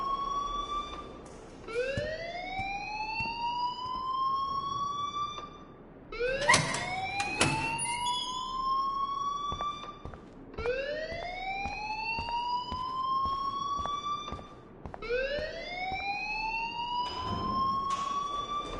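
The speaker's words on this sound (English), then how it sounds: "please turn off that alarm since that's your job" A repeating rising-and-falling electronic alarm wails through a school building in the video game Life is Strange, four loud sweeping cycles with brief breaks and a sharp clatter between them.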